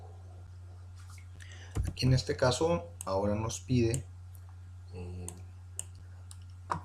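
Faint computer mouse clicks during a Red Hat Linux installation with Oracle Database, a few soft taps heard first on their own before someone talks in Spanish over the quiet, steady hum of the room.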